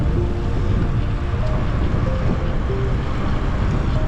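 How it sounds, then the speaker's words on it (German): Steady wind roars over the microphone while cycling past salt-water lagoons on a 600 km non-stop audax brevet, a dense constant rush filling the whole stretch with no voices. "Und der Wind nimmt zum Glück einen Tick ab."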